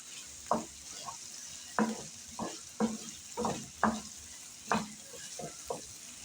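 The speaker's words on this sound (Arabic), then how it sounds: "كل حاجة بنحطها بنقلبها كام تقليبة كده تتشمع بس كده بالدهون اللي نازلة من الصدوق ومن الزيت" Peppers frying in oil and rendered sausage fat, stirred in a pan with a spoon: a soft steady sizzle punctuated by about ten distinct scraping stirs, close and fairly quiet.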